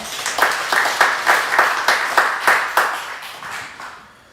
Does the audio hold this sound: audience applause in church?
yes